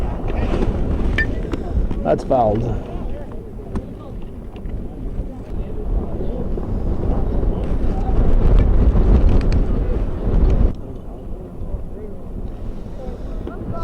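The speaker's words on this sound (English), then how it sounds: "We had an extremely strong gust coming when he decided to toss that one." A strong wind gust buffets the microphone at an outdoor high school baseball game, a loud continuous rumble lasting throughout, with a commentator talking over it.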